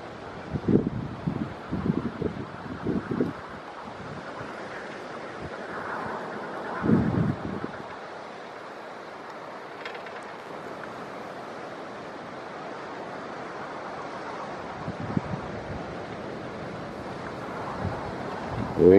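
Strong storm wind buffets the area around a wind turbine on a gusty day in May 2021, with a continuous rushing roar and heavy low microphone buffeting in bursts, some near and loud, no talk.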